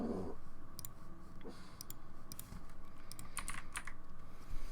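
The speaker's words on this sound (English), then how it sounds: "When buttons are pressed, each sound is a mix of a keyboard stroke and a synthesized tone." Button presses in a video game, each a keyboard stroke blended with a synthesized tone, heard as a series of irregular crisp clicks and taps over a steady low hum.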